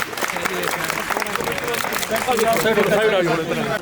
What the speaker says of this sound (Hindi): जोरदार तालियां उनके नाम की